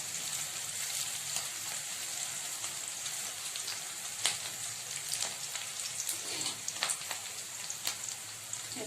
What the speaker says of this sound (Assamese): পিয়াজ ভাজ খাইছে অলপ অলপ।